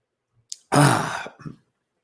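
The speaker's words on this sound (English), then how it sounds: "I need to clear my throat with some iced coffee here" A man clears his throat once, close and fairly loud, in a rough burst that trails off into a brief softer rasp, between short pauses.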